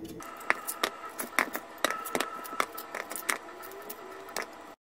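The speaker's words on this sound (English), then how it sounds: "just cut it like that and be careful with the knife." A knife slicing through raw cocoyam in a home kitchen, giving a series of faint, irregular crisp cuts and taps about once or twice a second, close by and without talk.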